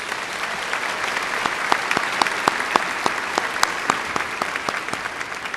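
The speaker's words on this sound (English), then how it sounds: "Please give our trustees a warm round of applause." Audience applause at a 2017 high school graduation ceremony for the trustees: a steady, fairly close clapping from many hands lasting several seconds, with sharp individual claps standing out from the crowd.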